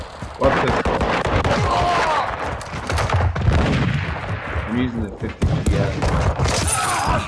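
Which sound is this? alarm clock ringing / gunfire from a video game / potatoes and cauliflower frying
gunfire from a video game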